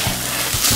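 Peppers and onion frying in a pan, a brief, close, continuous crackling sizzle with a few soft low bumps.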